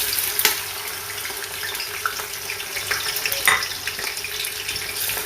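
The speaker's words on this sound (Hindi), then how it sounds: "तो जी ऑयल हमारा गर्म हो गया। हम इसमें डालते हैं सबसे पहले प्याज।" Onions hit hot oil in a pot for beef pulao, giving a steady, close crackling sizzle with occasional sharper pops and spatters and no talk over it.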